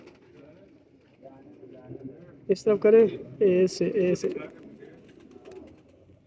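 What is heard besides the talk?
pigeon cooing while held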